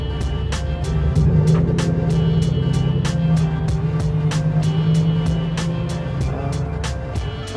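A Mazda Miata engine idles nearby with a steady, even hum and a droning low tone, while sharp regular clicks tick through it at a constant rhythm.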